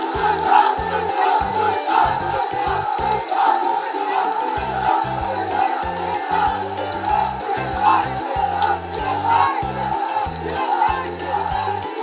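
A large political rally crowd chants slogans in rhythmic, repeated bursts, loud and sustained, with cheering and whoops mixed in throughout.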